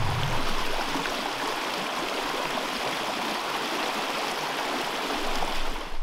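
Continuous rushing of a small stream flowing into the Neris river, loud and close, a steady broadband wash with no voices.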